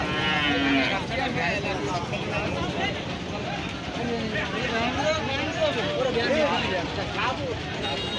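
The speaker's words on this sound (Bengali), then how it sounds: "গরু ওখানে গুতুগুতি করছে" Cattle low at a crowded rural market, with several drawn-out moos rising through a constant hubbub of people talking nearby.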